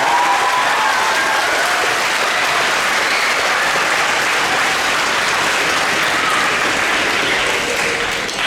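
Sustained audience applause fills a school gymnasium or auditorium at a middle school band spring concert, a dense steady wash of many hands clapping at even loudness throughout, with no voices on top.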